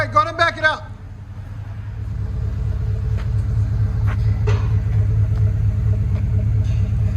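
A 2021 Ford F-350 with a 7.3L gas V8 and Black Widow exhaust settles into a low, steady, close-up idle rumble after a moment of speech at the start.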